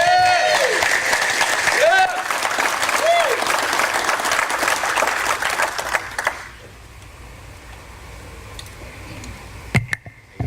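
Audience applause at a Houston event welcoming a speaker, a loud crowd clapping for about six seconds before fading to quiet room noise, with someone speaking over it.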